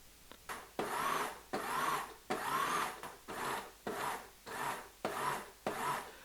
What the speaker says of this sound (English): Process carefully using the pulse feature until the dough is soft enough to form large clumps.